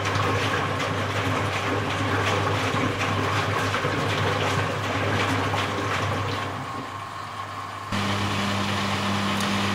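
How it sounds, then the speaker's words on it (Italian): Rex RC 5221 LX washing machine draining its pre-wash water with the drum turning, a steady close hum of the pump and rushing water that briefly softens before a pitch shift near the end. "Lo scarico del prelavaggio avviene con cestello in rotazione"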